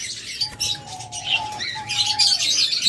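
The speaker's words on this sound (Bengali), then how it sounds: "এরপর রয়েছে আমাদের কাছে বাজিগার পাখি" Budgerigars in a bird shop chirp and chatter close by, a continuous high twittering with a long thin whistle running through it and soft fluttering in the background.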